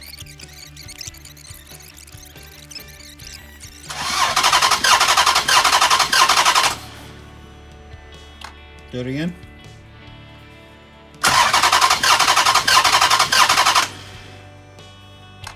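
A 2006 Dodge Charger R/T engine cranks and runs in two loud bursts of several seconds each with a quieter stretch between them, and voices talk during the quiet parts.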